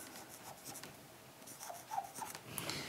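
Writing on a board during a maths lesson, with soft, close scratching strokes in short bursts, faint against a quiet room.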